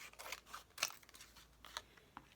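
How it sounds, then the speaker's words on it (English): Scissors snip through paper being cut in half for a handmade journal, giving a few quiet, crisp cuts and rustles spread over a couple of seconds, close by. "Let's cut it in half and use those for that one."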